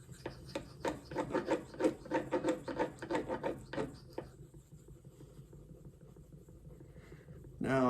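A Maxamet steel knife is sharpened on an 800 grit stone, with rhythmic close scraping strokes for several seconds before a pause, and a voice talking over them.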